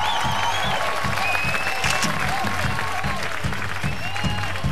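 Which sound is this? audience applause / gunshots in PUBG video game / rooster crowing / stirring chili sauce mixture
audience applause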